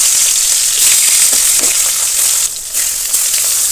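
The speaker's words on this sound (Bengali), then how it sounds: "এবার আমি মাছগুলো অ্যাড করে দিয়ে দেবো।" Karfu fish pieces frying in hot oil, producing a loud, steady, close sizzle with bright crackling hiss throughout and a brief dip as pieces shift.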